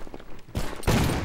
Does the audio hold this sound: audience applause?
no